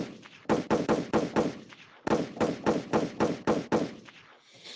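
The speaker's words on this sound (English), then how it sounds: "So we need some gunshots for this." A rapid series of loud, sharp gunshot effects in two bursts of about five or six shots each, evenly spaced, with a brief gap between the volleys and a faint hiss trailing at the end.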